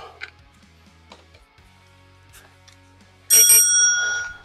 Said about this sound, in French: Et chez Teddy, j'ai trouvé une petite sonnette rose.